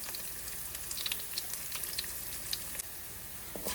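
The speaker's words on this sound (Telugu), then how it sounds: "ఇప్పుడు పోపులు వేస్తున్నా" Mustard seeds, cumin, urad and chana dal tempering in hot oil with curry leaves and garlic for cabbage curry, a quiet close sizzle dotted with sharp popping crackles, no voices.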